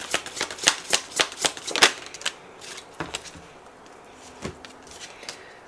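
Oracle message cards being shuffled by hand, a quick run of crisp riffling flicks up close that thins out into a few scattered soft taps.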